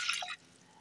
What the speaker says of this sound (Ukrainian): заливаю їх водою, вода тепла